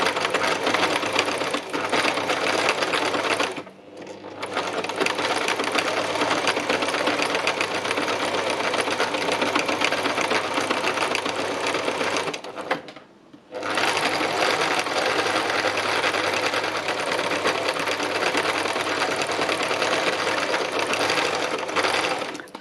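A sewing machine runs steadily as it stitches through layered fabric, a loud continuous whir broken by two brief pauses near the start and middle.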